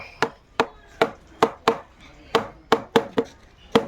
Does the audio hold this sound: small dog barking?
no